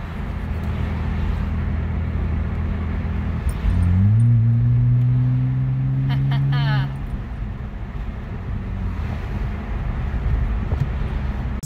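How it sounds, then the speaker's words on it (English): A BMW with an exhaust cutout valve open, revved in a sharp rising burst after an idle, the engine note climbing and holding for a few seconds before dropping back to a low rumble, with people talking around it. "Now why don't you go ahead and open the valve, Ollie."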